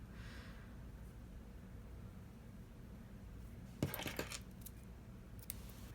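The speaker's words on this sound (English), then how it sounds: "for the stuff I'm using, I'm going to cut this length in half first" Scissors snip embroidery floss in a quiet room: a brief cluster of sharp metallic clicks and snips near the middle, then a single faint click, against soft background hiss.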